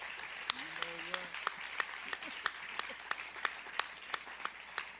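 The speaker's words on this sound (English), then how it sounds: "I think we should give Roz another ovation. A round of applause for pulling it off." Sparse, evenly spaced claps from a small lunch audience at a Dodgers storytelling event, quiet and distant, with a brief voice at the start.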